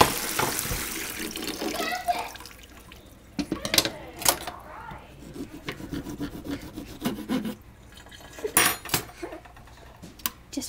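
Lettuce is rubbed and rinsed under running tap water, giving uneven rustling and splashing bursts with intermittent scraping.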